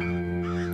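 Crows caw together in one harsh, sustained, close call that fills the whole brief moment, a dense flock sound with no talk.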